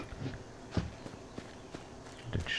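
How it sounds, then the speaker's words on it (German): Footsteps of a character walking through shallow grass in the video game Divinity 2, soft irregular steps close by with a faint ambient background. "Den Schritten durchs seichte Gras."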